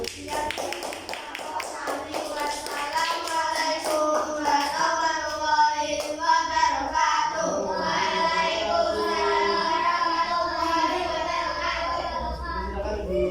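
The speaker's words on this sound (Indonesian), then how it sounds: "berikan tepuk tangan untuk kelompok yang maju" A classroom of students claps for a presenting group, with steady, dense pattering applause mixed with overlapping voices throughout.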